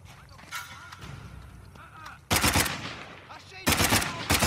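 Loud automatic gunfire bursts in Uncharted 4, a sustained volley starting midway and a second burst near the end, over quieter game ambience with faint voices early on.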